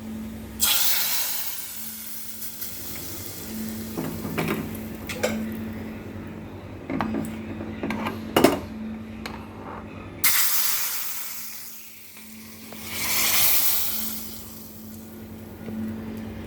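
Mustard seed tempering poured into a jackfruit seed and mango curry, a loud burst of sizzling hiss with pan clinks and scrapes, fading, then a second strong sizzle surge near the end.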